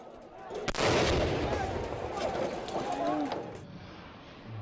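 Grenade explosion a few meters away during a violent Bangkok protest clash, one loud sharp blast followed by a long rumbling tail and crowd commotion, with shouting voices underneath.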